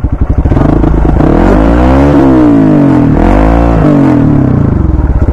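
A Hero Xpulse 200 4V motorcycle revs loudly off-road, its engine climbing and falling in pitch through several sustained throttle pulls over about five seconds, close by and with no talking.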